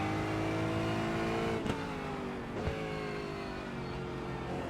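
Aston Martin GT4 race car in iRacing at Winton Raceway, engine droning steadily at high revs with pitch sweeping up and down through gear changes, loud and close with no talk.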